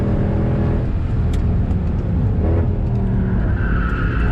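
Mercedes W204 C63 lapping the Nordschleife, a loud, steady engine roar with gear and rev changes and a brief tyre skid, heard close from inside the car.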